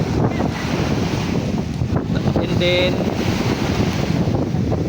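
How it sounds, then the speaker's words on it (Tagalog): Strong typhoon wind at the beach roars steadily across the microphone, with a constant low rumble and brief faint talk partway through. "Lakas ng hangin."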